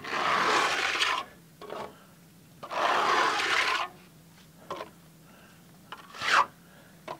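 Stucco being floated across a damp, soupy wall during a skip-trowel job over a sand finish, heard as long close rasping scrapes in bursts of a second or more, with shorter rubs and pauses between.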